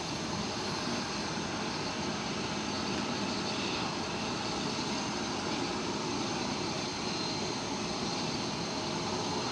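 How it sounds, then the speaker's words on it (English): Delta Airlines Airbus A330 jet engines spooling up at Amsterdam Schiphol, a loud steady broadband roar with a constant engine drone that holds unbroken for the full length, with no voices. "There is Delta Airlines A330 starting up, making quite some noise."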